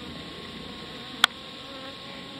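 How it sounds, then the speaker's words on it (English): Honey bees fly around a hive while honey supers are being pulled, giving a faint steady buzzing hum throughout, broken by one sharp brief click in the middle. "there are bees flying all around me because I have relocated one of the supers"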